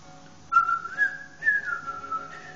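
The Pikmin video game's whistle for calling Pikmin back, a clear tonal whistle in two rising, wavering bursts, loud and close with no talk.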